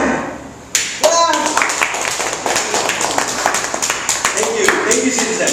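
Audience applause at a Toastmasters club meeting in Metro Manila, a dense burst of many hands clapping that starts abruptly and continues steadily at close range, with a few voices mixed in.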